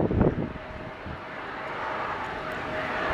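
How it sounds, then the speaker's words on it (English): An Embraer Praetor 600 business jet departs on runway 10 right, its engine roar a steady, moderately loud rush heard from a distance, rising slightly as it goes. "we've got this Embraer Praetor or Praetor 600 departing CMH on runway 10 right"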